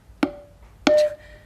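Two hits on a Simmons electronic tom-tom drum pad with a pitched, ringing tone, the second slightly longer and sustained, spaced about half a second apart.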